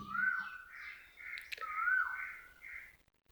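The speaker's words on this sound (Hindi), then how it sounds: "आज कोयलों की बहुत आवाजें आ रही हैं।" Koels call in a quiet outdoor setting, a few rising, whistled bird notes repeating faintly at a distance with no talk.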